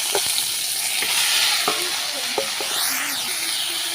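Flat beans hit hot oil with radhuni and cumin in a pan, giving a loud, steady broadband sizzle with occasional spoon scrapes and clinks, close and alone.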